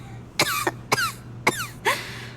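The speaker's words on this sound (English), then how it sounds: "Don't cough off your lung now." A Genshin Impact character coughs in four short bursts spaced about half a second apart, close and clear with no talking.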